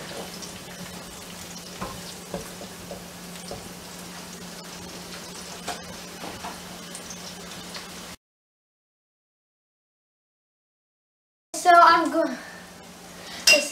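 Rice fries in a pan for Persian rice, giving a steady soft sizzle with occasional stirring clinks for several seconds, then a gap of silence before a voice speaks.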